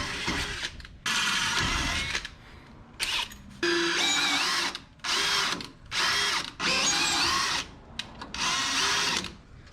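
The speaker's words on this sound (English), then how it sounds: "Quick little drill and tap action." Bursts of a power drill whirring at high speed while working on a 1977 Datsun 620 pickup, several on-off runs separated by short pauses, close and loud with no talking.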